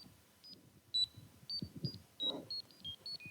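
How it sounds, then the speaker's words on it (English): Small Poisson event generator device emitting short, high electronic beeps at irregular random intervals, about ten faint chirps over low background handling noise. "every time it beeps, that's a Poisson event happening"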